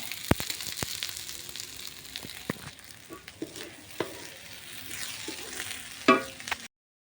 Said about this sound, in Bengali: গরম মশলাটা দিয়ে একটু নেড়ে নিয়ে